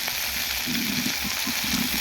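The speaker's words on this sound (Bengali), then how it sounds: "এই জন্য আমি হালকা করেই ভেজে নিচ্ছি আর কি" Silver carp pieces frying lightly in oil, giving a steady, close sizzle with soft bubbling pulses throughout, no voices present.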